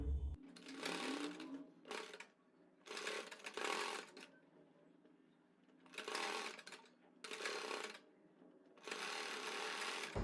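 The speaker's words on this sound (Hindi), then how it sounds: "खींचते हुए इस तरीके से हम पूरी सिलाई को कंप्लीट कर लेंगे।" An electric sewing machine stitches elastic onto a plazo waistband, running in about five loud, close bursts of rapid needle whirring with short pauses between them and no talk.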